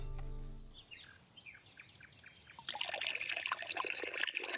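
Water running to clean a stained skirt in a cartoon scene: a trickle with light chirping sounds, then a louder, steady splash and stream of water toward the end, with no voices.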